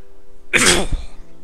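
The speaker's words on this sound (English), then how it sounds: "Excuse me, I need to clear my throat." One short, forceful throat clearing from a person during a gaming commentary session, a single rough burst lasting under half a second against a quiet background.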